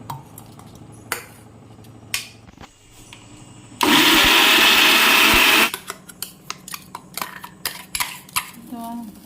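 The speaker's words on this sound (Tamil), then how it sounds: "இப்போ அரைச்சிட்டு ஊற்றுக்குவோம். மிக்சியில் சேர்த்து" A mixer grinder whirs loudly in one steady burst of about two seconds while grinding tomato chutney, framed by clinks of utensils and kitchen clatter before and after.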